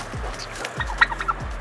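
Farm turkeys gobble in quick, close bursts, with a few rapid warbling calls repeating over barely two seconds amid some faint background noise.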